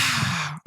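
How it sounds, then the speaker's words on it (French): Children exhale through the mouth during a yoga class, one long breathy sigh that holds steady and then cuts off, with a short faint breath after it, close and clear, with no talking. "Inspire avec le nez. Expire avec la bouche."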